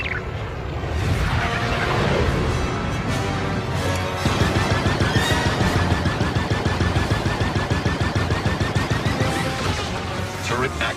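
Rapid turret gunfire in the video game Star Wars Outlaws, a loud continuous stream of shots that grows denser and more rhythmic partway through, with explosions and game sounds mixed in.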